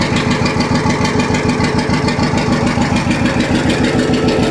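A 1957 John Deere 520 tractor engine idles steadily and loudly nearby, its rapid even chugging pulses continuous throughout with no talk over it.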